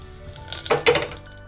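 Ghee tempering bay leaf and one dried red chili in a heated pressure cooker, a short sizzling crackle that swells into a louder burst of frying hiss, then settles, close and without talk.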